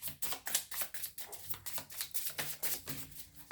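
Tarot cards being shuffled by hand, a rapid run of soft papery riffles and flicks repeating steadily at close range with no voices.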